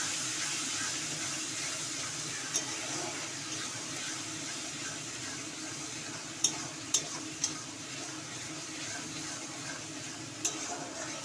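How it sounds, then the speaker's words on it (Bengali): Masala is stir-fried in a pan for a prawn dish, a constant soft sizzle punctuated by several sharp metallic scrapes and taps of the spatula, without speech. "এবার আমি দিয়ে দেবো মধ্যে, দিয়ে মশলাটাকে কষিয়ে দেবো।"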